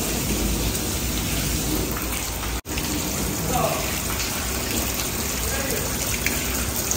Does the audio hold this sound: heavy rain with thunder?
yes